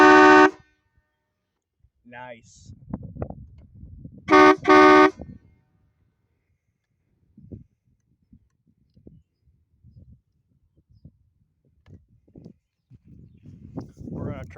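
An unidentified two-tone air horn gives a few loud honks: one short blast at the start and two longer blasts around four to five seconds, separated by quieter stretches of talk and background rustle.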